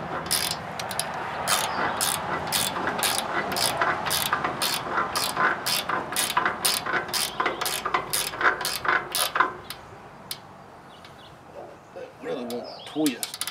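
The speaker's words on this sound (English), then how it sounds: "And then we'll tighten up the lock nut on it." A hand ratchet clicks in a fast, steady run while tightening a lock nut on an MF 25 hay rake, close and loud, then stops near the end as a voice briefly speaks.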